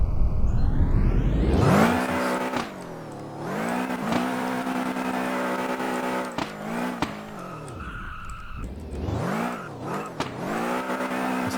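Lada car in the Roblox game Redline Drifting, engine revving hard and rising and falling in pitch through repeated drifts, with loud tire squeal and skidding, no talk.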